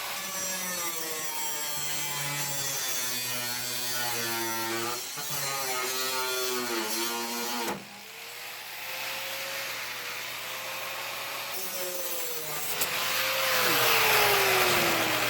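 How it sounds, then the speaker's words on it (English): Angle grinder cutting off a rusted screw on an old swamp cooler, a loud continuous whine that rises and falls in pitch as the disc bites into the metal, with a brief dip partway through before grinding resumes. "So I'm going to have to grind that one off too."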